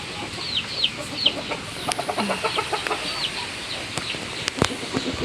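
Hens in a coop cluck softly and intermittently, with a few sharper calls, under a steady background hiss and rustle.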